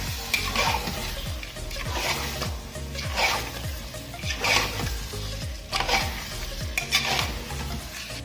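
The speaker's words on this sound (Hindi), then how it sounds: "अब हम इसके अंदर जो है हमारा 1 किलो मटन ऐड करेंगे। इसको कर देते हैं एक बार मिक्स।" A kilogram of mutton stirred into sizzling curry gravy in a pan, with a continuous close frying hiss and a regular rhythm of spoon scrapes and thumps, roughly one stroke per second throughout.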